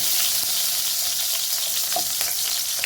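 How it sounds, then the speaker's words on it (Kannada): Garlic frying in oil for veg fried rice makes a continuous, close, bright hiss and crackle, with no voices. "ನಾನು ಡೈರೆಕ್ಟಲ್ಲಿ ಗಾರ್ಲಿಕ್ ಹಾಕೊಳ್ತೀನಿ"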